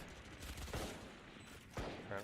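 Gunfire from shots fired through a wall in a competitive video game match, a few sharp bursts under a commentator's voice.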